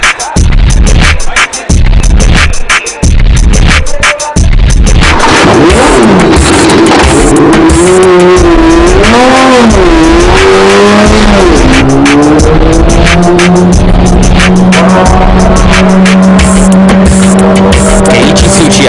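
A race car laps on brand-new soft compound tires, its engine loud and close with rising and falling revs through gear changes and corners, tire squeal and skidding mixed in, running continuously with no talk.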